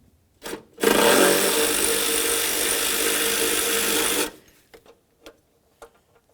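A power tool spins out a 10mm bolt holding a radiator bracket on a 2000-2005 Buick LeSabre, with a short burst, then about three and a half seconds of loud steady whirring, followed by a few light clinks.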